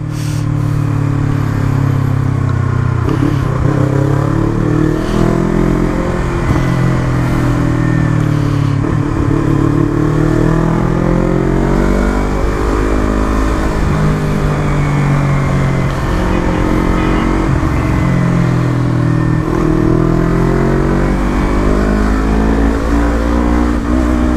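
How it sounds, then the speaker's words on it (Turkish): A motorcycle engine revs hard and repeatedly while riding through heavy traffic, loud and close, rising and falling in waves of throttle over a constant roar, with no talk. "Seviyoruz şöyle gazlamayı be valla."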